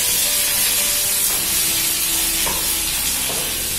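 Peppers and onions sauté in a hot pan with a steady, dense sizzling hiss that runs unbroken throughout. A few faint scrapes and stirring clicks come through underneath.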